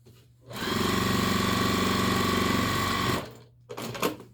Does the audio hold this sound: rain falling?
no